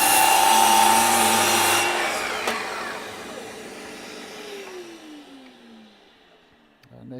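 A Festool Kapex miter saw cuts wood with a loud, close motor whine, then the blade winds down in a falling tone until it fades toward quiet.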